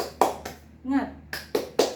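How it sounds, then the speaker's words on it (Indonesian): A classroom does a rhythmic spirit clap, with a few sharp clap bursts broken by a short voiced call in the middle, then three more quick claps. "Oke, tepuk semangat."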